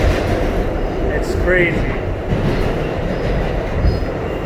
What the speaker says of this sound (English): And I'm on the 7 train